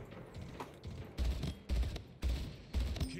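Pistol fire in the shooter game Splitgate sounds as a series of sharp, punchy shots in a roughly regular rhythm over a dense game background.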